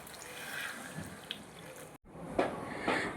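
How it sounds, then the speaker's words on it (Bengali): Hot water poured into a pot of chicken biryani in a home kitchen, a faint, splashing liquid stream broken by a brief pause and then resuming with a couple of louder splashes. "অ্যাড করে দিলাম কিছুটা গরম জল।"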